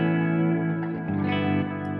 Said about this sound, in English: This is the same delay, but with reverb.